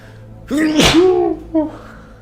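A single loud, close sneeze with a sharp burst in the middle, followed by a short exhale.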